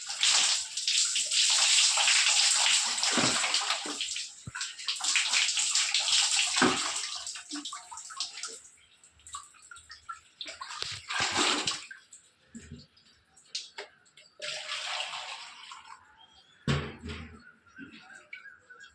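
Water poured and splashed over a person's body during a water therapy session, a loud continuous gush at first, then breaking into shorter intermittent splashes and pours.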